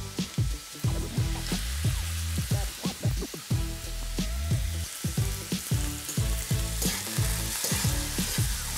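Fried rice ingredients with scallions, coriander and lettuce toasting in a hot pan, a loud continuous sizzle broken by rhythmic scraping and stirring strokes throughout, with no talk.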